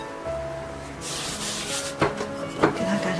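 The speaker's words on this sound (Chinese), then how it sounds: "面团已经发好了， 给它揉搓排气，底部多撒点干粉" Proofed bread dough being kneaded and rubbed on a floured surface to knock out air, steady rough rubbing and pressing close up, with a couple of sharper slaps or presses, no talk.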